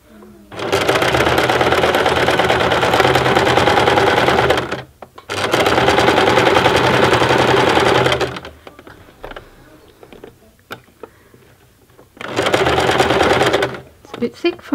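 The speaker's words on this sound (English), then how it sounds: "we're just going to sew directly across that line." A sewing machine stitches across a marked line on a thick woven tote bag. It runs in three long, loud, steady bursts with pauses in between, where quieter handling sounds and a voice can be heard.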